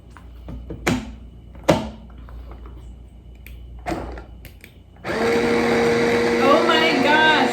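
An electric food chopper whirs loudly and steadily as it chops onions for salsa, preceded by a few separate knocks and clatters as it is set up, with a person talking.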